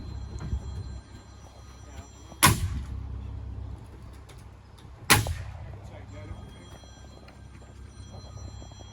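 Two sharp, loud pneumatic nail gun shots about two and a half seconds apart at a work site, each a sudden broadband crack over a low rumbling background.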